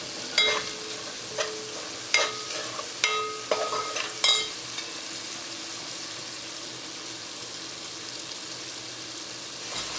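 Masala sizzling in a frying pan while a spoon stirs it, with several sharp scraping clacks in the first few seconds, then a steady, close frying hiss on its own.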